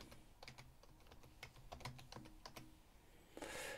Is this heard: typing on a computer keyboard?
yes